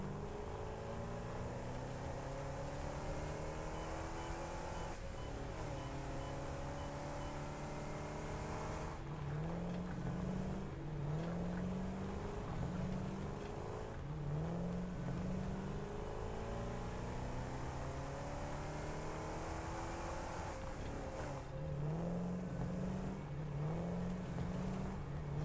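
A vehicle drives in the factory-building game Satisfactory, its engine droning steadily and rising repeatedly in pitch as it accelerates and shifts gears over a long continuous stretch.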